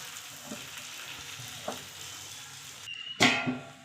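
A mixed-flour dhapate flatbread sizzles steadily on a hot griddle, a soft continuous hiss that swells into a sharper, louder crackle near the end.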